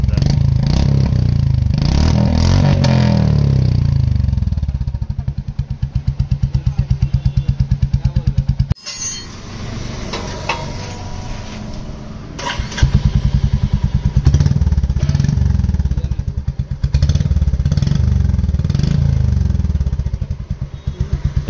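Royal Enfield Classic 350 Reborn with a changed bend pipe and short exhaust, its heavy thumping single-cylinder engine running loud and close, with rev rises and a brief dip partway through, a voice faintly present underneath.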